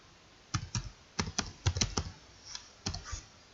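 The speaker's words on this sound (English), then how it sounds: "We could click the FX key and in the search function type in" Keystrokes on a computer keyboard typing a word into a spreadsheet search box: quick clusters of close, crisp clicks in short bursts with brief pauses, no talking.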